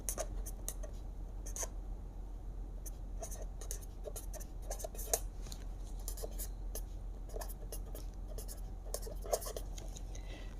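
Pen or pencil scratching out a polynomial by hand on paper, steady soft scribbling strokes with brief ticks running throughout at close range, no speech over it.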